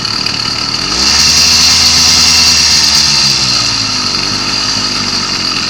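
An old clunker's engine settles into a steady idle after warming up, a constant loud rumble with a buzzy, saw-like rasp that deepens slightly about a second in, running close and alone.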